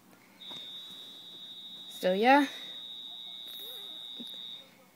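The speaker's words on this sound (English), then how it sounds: "They're doing testing, if you heard that." A steady, piercing fire alarm tone sounds continuously for several seconds during a building alarm test, heard indoors at moderate volume while a person briefly speaks over it.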